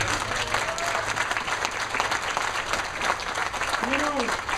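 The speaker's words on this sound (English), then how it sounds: "I want you to give a round of applause to my buddy Mo here" Audience applause at a political campaign event with organized labor supporters, a steady wash of clapping with a few faint voices and whoops rising through it near the end.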